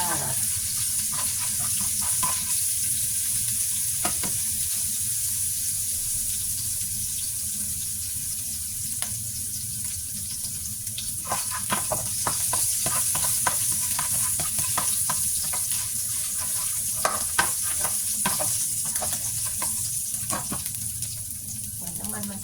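Minced pork stir-frying in plenty of hot oil for Thai pad kaprow, a loud continuous sizzle with repeated scraping and stirring clicks of a utensil against the pan throughout.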